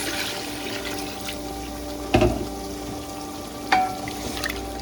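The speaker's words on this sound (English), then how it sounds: "So we're gonna go ahead and add 2 cups of water to this." Water poured into sizzling biryani masala in a pan for Shan Bombay chicken biryani, a steady frying hiss with two sharp splashes and bursts of sizzle as the liquid hits the hot oil.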